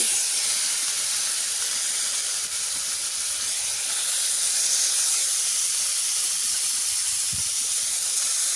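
Overheated oil hissing steadily in a kadai (wok) left on the flame, a continuous loud broadband hiss lasting throughout with no talk.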